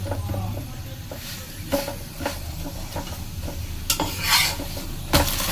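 Roti cooking in a pan on a gas stove with the flame turned up, giving a soft steady sizzle and hiss broken by a few scraping, clinking touches of a utensil against the pan.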